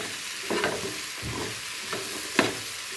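Sandwich filling with sauces being stirred as it fries in a pan: a few scraping strokes of a spoon over a continuous soft sizzle, close up, with one sharper scrape near the end.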